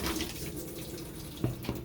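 A washing machine fills with water in a steady rushing flow, close and moderately loud, with a couple of soft knocks near the end.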